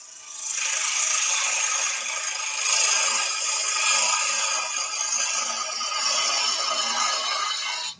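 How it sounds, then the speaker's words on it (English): A wood-turning gouge slides its bevel along timber while cutting a basket weave vase on a lathe, giving a continuous, fairly soft, hissing scrape with slight rhythmic swells and no voices. "I'm going to slide that bevel along the timber."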